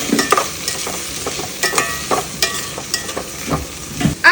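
Bitter gourd (ampalaya) cooking in a home frying pan, with sizzling, scraping stirs and clattering utensil taps repeating every half second or so, close and moderately loud, with no talking.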